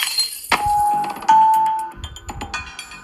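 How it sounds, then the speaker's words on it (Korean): Loud impact with glass shattering and clinking shards in a thriller romance simulation game, one sharp crash followed by a second hit and scattered tinkling debris. "바로 등 뒤에서 무언가가 퍽 부딪히며 깨진 소리가 요란하게 울렸다."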